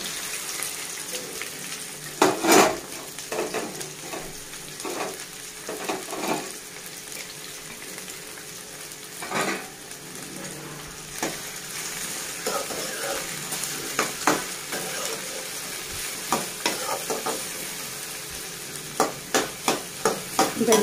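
Okra being fried in about three spoons of oil and stirred in a pan, with repeated scraping and clattering strokes over a steady low sizzle, close by and fairly loud throughout.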